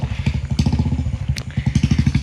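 A motorbike engine putters in a fast, steady rhythm of low thumps, close by and loud, as the bike rides along a narrow village path near a river.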